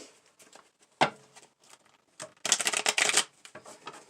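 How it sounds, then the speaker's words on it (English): Tarot cards being shuffled by hand: soft riffling patters and flicks, with a sharp snap early on and a dense flurry of card noise near the end, close and fairly quiet. "I'm going to shuffle this"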